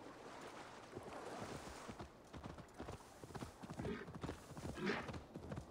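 A horse in Assassin's Creed Valhalla clip-clops along with quick irregular hoofbeats over a low wash of water, ending with a faint whinny-like call near the end.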